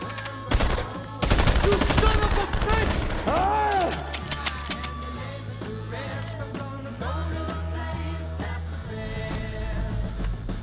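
Gunfire from a movie fight scene comes as loud bursts of rapid automatic shots and single cracks, mixed with metallic clatter and dramatic background music, with voices heard faintly in places.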